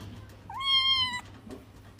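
A cat gives a single clear, drawn-out meow lasting under a second, rising then holding steady, heard alone against a quiet background.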